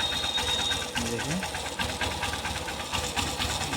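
An Achiever motorcycle engine runs after repair work on its sound problem, with oil rising to the head, a close, rapid, steady mechanical chatter while someone talks over it.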